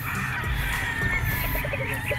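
A large flock of chickens at a gamefowl farm, clucking and calling together in a dense, continuous chorus with occasional crowing, a steady murmur of birds close by.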